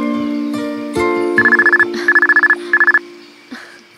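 A telephone rings with three bursts of rapid electronic trilling tones over a background melodic jingle, the ringtone repeating in short clustered pulses before fading.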